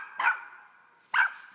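Dogs bark at a tree where a squirrel lives: two short, sharp barks about a second apart, moderately close, with quiet between them.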